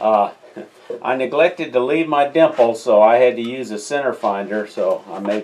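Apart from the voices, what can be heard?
No everyday noises stand out.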